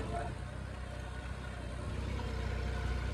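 A tractor engine idles steadily on a farm field, a low rumbling drone with a fine repetitive throb, moderately close and continuous throughout with no talking.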